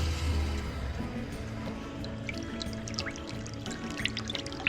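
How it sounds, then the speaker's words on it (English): Clean water flushing through a tankless water heater after an acid wash, a steady pouring, gurgling flow with faint drips, moderately close and continuous with no talk. "I'm just doing a system flush just with clean water"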